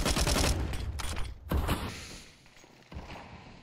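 Rapid bursts of gunfire sprayed through a smoke cloud during a professional Counter-Strike 2 match on Anubis, loud clustered shots in the first half-second and around one and a half seconds, then fading to quieter scattered noise.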